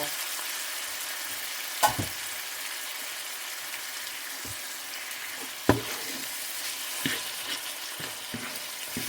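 Canned diced tomatoes with green chilies sizzling in a pan of taco filling, a soft continuous fry with a few louder clunks and stirring sounds.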